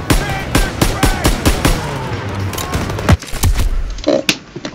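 Half-track mounted machine gun in Call of Duty WWII, rapid loud bursts of automatic fire in quick repeated shots, with other battle noise and a voice speaking briefly.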